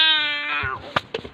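A cat gives one long, loud drawn-out meow close by, then a couple of short faint rustles and clicks follow.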